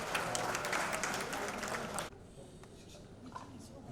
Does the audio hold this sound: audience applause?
yes